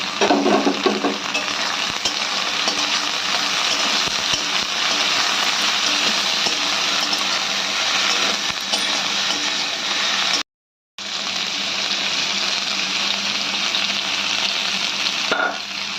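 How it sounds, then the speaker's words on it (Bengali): Chopped large onion frying in a pan for vegetable chowmein gives a dense, continuous sizzle close up with faint stirring, broken by one brief silent gap near the end. "এবার এটাকে আমরা একটু ভাজা ভাজা করে নেব"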